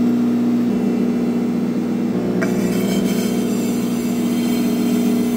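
A concrete floor polishing machine working at 400 grit gives a loud, steady motor drone with a constant hum, and a brighter grinding shimmer joins in midway as the pad works the floor.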